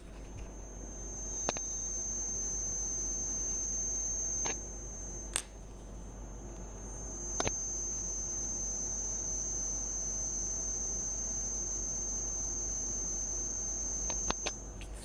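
A thin, steady high-pitched coil whine from an Amazon Basics USB-C hub persists over a low hum, with a few faint clicks scattered throughout.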